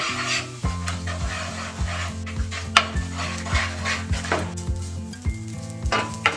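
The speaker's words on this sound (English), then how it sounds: "Cook egg by stirring gently." Eggs sizzle loudly in a pan with tomato ketchup for egg masala rice while being stirred gently, a constant crackling fry with repeated scrapes and clinks of the spatula against the pan, close up.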